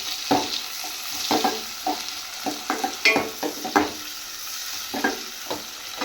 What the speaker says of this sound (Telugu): సో ఇవి వేగుతున్నాయి కదా.